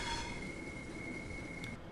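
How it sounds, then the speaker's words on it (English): A Class 465/9 electric multiple unit running in Train Sim World 2, a steady rumbling rail drone with a sustained high whine throughout, no voices. "I'm going to put the train back into notch 4 to make sure the speed set holds us at that speed"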